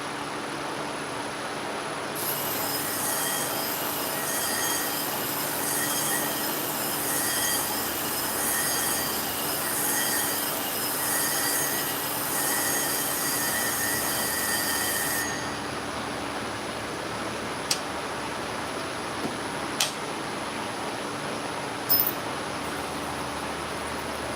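A dog clipper blade cutter being ground on a sharpener, giving a steady, high, piercing grinding whine that runs for about thirteen seconds over a constant motor hum, then stops, leaving the hum and a few faint clicks.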